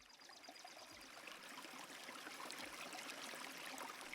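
Water in a river running steadily, a continuous broadband rush and trickle like a stream that has suddenly begun to flow, fairly even in level throughout with no voices.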